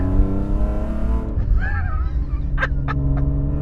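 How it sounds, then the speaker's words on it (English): A BMW E46 330i engine revs hard and deep, the roar rising and falling, with a few sharp higher squeals near the end; no talking. "sorry for all the race car noises, everybody"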